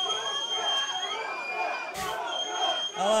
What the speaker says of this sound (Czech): tady to slyšíte jednoznačně, jo? Velkou prostě podporu v publiku